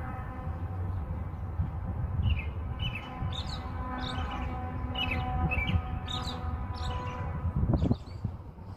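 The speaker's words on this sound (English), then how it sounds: "I like the sound of the birds better than the sirens." Outdoor birdsong on a spring day, with a run of bright chirps and short trilled phrases repeating over a steady low hum of distant traffic or machinery.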